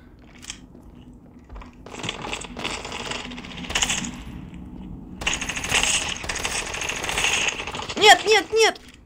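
Gunfire in the mobile shooter Standoff 2 comes in several sharp, clattering bursts separated by short pauses, moderately loud, with a voice speaking briefly near the end.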